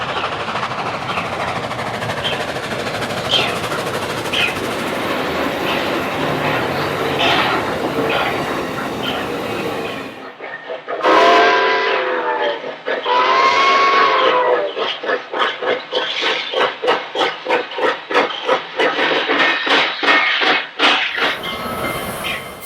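Southern Pacific 4274 steam locomotive races east alongside Roseville Road across Arcade Creek, a loud rumbling train run broken by two long wavering steam whistle blasts, then rapid rhythmic chuffing exhaust beats building close by.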